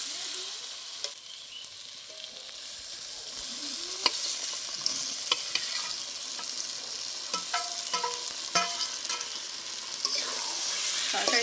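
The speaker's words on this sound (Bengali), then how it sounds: "তরকারির সাথে ভালো করে মশলাটা একটু কষিয়ে নেব।" Potatoes, pointed gourd and prawns stir-fried in masala, with a steady close sizzle and a series of scraping, clacking spatula strokes that grow busier toward the end.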